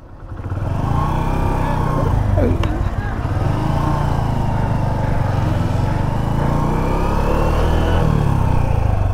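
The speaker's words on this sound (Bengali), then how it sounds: "খুব সুন্দর একটি রাস্তায় সুন্দর একটি বাইক রাইড করতেছি" A motorcycle engine drones steadily while riding along the Ramgarh border road in Bangladesh, loud and continuous with wind rush over the whole stretch and a voice talking in the middle.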